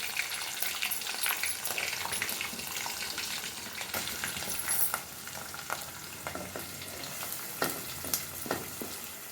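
Green chilies and onions frying in a pan of hot oil for a prawn and raw mango dish, a steady busy sizzle with scattered stirring clinks and scrapes throughout.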